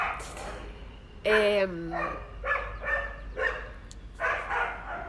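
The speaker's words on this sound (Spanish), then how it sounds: "Los perros están a full." A neighbor's dogs bark in several sharp separate bursts, moderately close, with one longer whining yelp among them and a voice speaking underneath.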